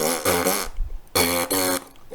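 A mouth imitates a didgeridoo without the instrument, a buzzy droning lip sound in two loud open-and-squeeze pulses separated by a short pause.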